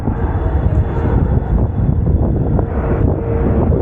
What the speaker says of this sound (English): I'll go after that private jet that's taking off now